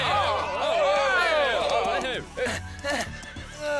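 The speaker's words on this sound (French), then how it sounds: "Nous aussi, nous avons des chevaux fougueux et difficiles à retenir." An animated horse in a French Pocahontas cartoon lets out a long, loud whinny with wavering pitch, then a few snorts and short huffs, with voices briefly speaking in the scene.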